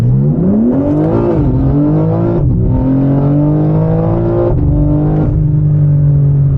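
A Stage 2 tuned BMW M4 G82 with 690 hp under full-throttle hard acceleration: a loud, continuous engine roar climbing steadily in pitch, broken by two quick gear shifts, with no talking.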